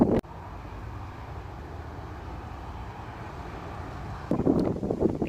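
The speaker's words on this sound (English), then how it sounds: "It's windy, so I apologise for the wind." Wind buffets the microphone on the windy hilltop of Burrow Mump in Somerset, making a constant low rumble that swells into louder, gusty bursts toward the end.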